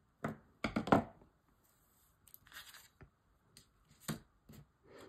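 Scissors snip through waxed linen thread: a few sharp, close, quiet cuts in quick succession, then scattered lighter snips separated by near-silent pauses.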